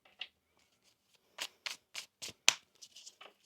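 Tarot cards are riffled and shuffled in a quick series of crisp, close bursts, with a few softer handling sounds at the start.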